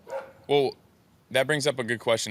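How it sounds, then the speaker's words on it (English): A dog barks in a short burst near the start, then someone talks over the remaining stretch while the dog stays quiet; the barks sound fairly close and loud. "sorry for that dog that's barking"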